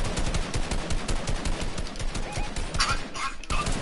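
Rapid automatic gunfire in a Fortnite battle royale match, dense bursts of shots rattling continuously and close, with no voices over them.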